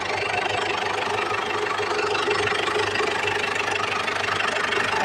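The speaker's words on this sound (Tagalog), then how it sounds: "Ford Ranger WE engine." A freshly overhauled Ford Ranger WE engine runs at a steady idle, with a continuous, even rumble and a faint ticking texture throughout. It is heard fairly close and with no voices.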